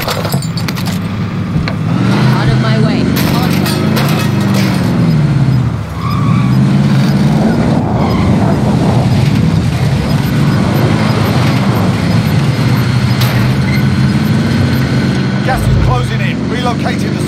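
A vehicle driven in a battle royale video game, a loud continuous engine drone with pitch swells as it speeds up and slows, tire skids and rattling underneath, with voice chat over it.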